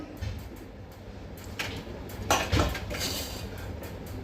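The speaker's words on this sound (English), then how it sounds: "So heat a pan." A pan is set down on a stove in a home kitchen, with a few faint clanks and one louder metallic knock over a quiet background, no talking.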